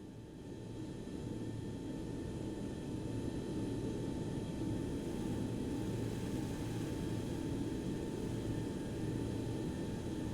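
Boeing 727-100 jet engines spooling at takeoff in the X-Plane 11 flight simulator, a steady loud rumbling roar with a constant whine holding throughout, no voices.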